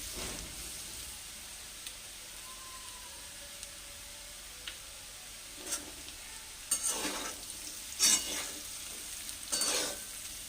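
Potatoes for aloo posto fry quietly in a pan with a faint sizzle, then several short, loud scraping stirs come in the last few seconds. No one speaks.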